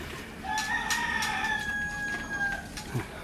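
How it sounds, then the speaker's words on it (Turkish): Rooster crowing among chickens at a school on Heybeliada island, one long drawn-out crow with a clear tonal rise and fall, moderately near, with faint clucks and ambient noise around it. "Tavuk horozdan başka bir şey yok."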